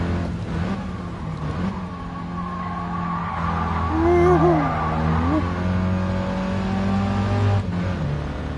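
A small car's engine revs and its tires squeal in GT Sport VR, a steady close engine drone that rises and falls, with a brief squeal partway through and little talk.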